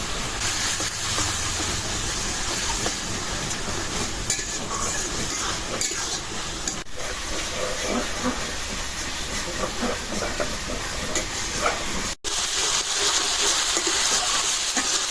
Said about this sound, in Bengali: মশলাটা ভালো করে কষাই নিলাম তেল উঠে ফেলাইছি